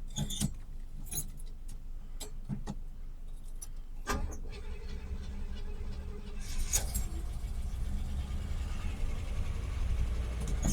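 Keys jangle near an old car that had sat unused for over 25 years, then its engine cranks, catches and settles into a steady idle that swells slightly louder toward the end.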